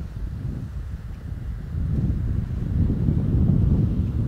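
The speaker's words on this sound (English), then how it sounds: "The wind is almost a direct headwind coming at these players right now." A strong headwind sweeps across an open disc golf course, buffeting the microphone with low, rumbling gusts that grow louder partway through.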